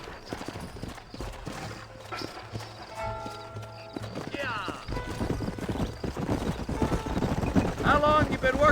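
Rhythmic hoofbeats of an unsaddled horse galloping in Red Dead Redemption, with a brief whinny, under game music and a man's conversation; steady and moderately close.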